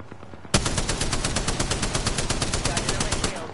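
Automatic gunfire from the video game Apex Legends erupts suddenly in a loud, rapid, evenly spaced burst that runs unbroken for about three seconds.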